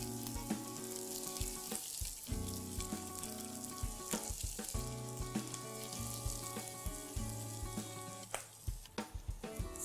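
Ground masala sizzles and fries in a pan with capsicum and mixed vegetables, a continuous close crackle with scattered pops and occasional stirring scrapes, fairly quiet and with no talk.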